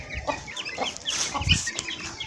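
A rooster clucks in short, choppy bursts nearby as it attacks pigeons, with scuffling and fluttering noises mixed in over a few seconds.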